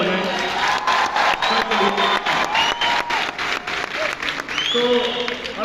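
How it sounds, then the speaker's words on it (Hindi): Audience applause filling a hall at a Vestige team motivational event, a dense steady roar of clapping with some cheers and whoops, loud and sustained throughout. "मैं चाहूँगा एक बार जोरदार तालियां हो जाए"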